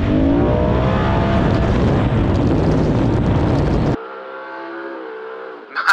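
An off-road car in sport mode on the sand dunes at Pismo roars loudly with heavy engine revving for about four seconds, then drops to a lower steady idle hum before a brief final surge.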